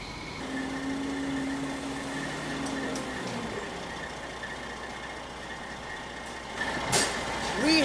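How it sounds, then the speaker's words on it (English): A sealer delivery truck carrying about 4,500 gallons of GemSeal backs in outdoors, its steady engine rumble running throughout with a faint reversing tone, and a louder air-brake-like hiss near the end. "The truck's just backing in now."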